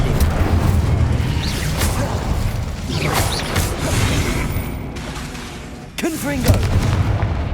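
Incendio fire spells cast repeatedly in Hogwarts Legacy: a dense, continuous roar of magical blasts and booms with whooshing bursts, loud and close, one sharp break near the end before another burst.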